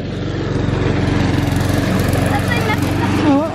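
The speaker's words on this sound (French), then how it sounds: "c'est l'heure de la tondeuse" A lawn mower engine runs steadily and close by throughout, with a continuous droning hum, while people talk over it near the end.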